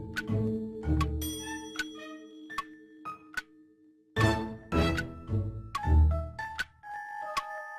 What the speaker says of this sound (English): The bell says push.